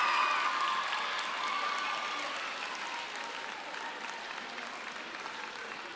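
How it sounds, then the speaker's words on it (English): A school promotion ceremony audience gives a round of applause for the parents, a thick steady clapping with a little cheering that slowly fades but continues through the whole stretch. "give them a round of applause."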